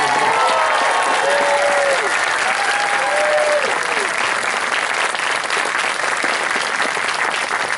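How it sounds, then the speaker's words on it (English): A large crowd applauds steadily and loudly throughout at a symphonic band camp concert, with a few cheers and whoops rising above the clapping. "How about one more huge round of applause also for Sam and Trista Kennedy?"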